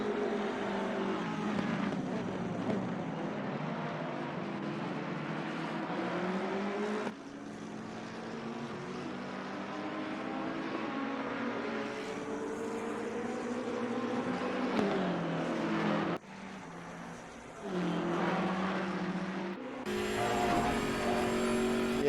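Race cars, a BMW and a Ferrari, circling Misano in a six-hour endurance race: a steady loud engine drone with rising and falling pitch through gear changes, heard from inside or close to the car, no talk.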